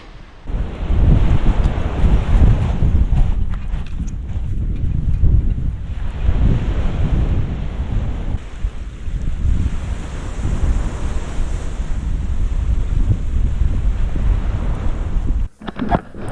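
Ocean surf breaking at a sandy shore with rocks between the sand, a steady loud wash of waves with heavy wind buffeting the microphone throughout, alone without voices.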